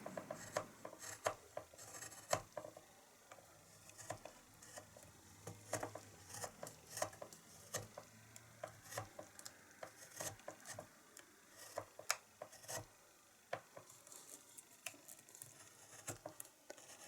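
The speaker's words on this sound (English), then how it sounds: "take your gouge in the thumb hold and work downwards towards the tips" A wood carving gouge cuts goldfinch wing feathers, making quiet, close, irregular little scraping and ticking strokes scattered across a soft background hiss.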